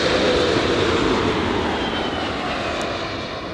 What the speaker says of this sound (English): JAL, Japan Airlines, touching down in the One World livery.